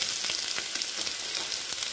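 Onions sizzle steadily while being stirred in a frying pan, with a constant broadband crackle and a few soft scraping strokes, close and moderately loud, no voices.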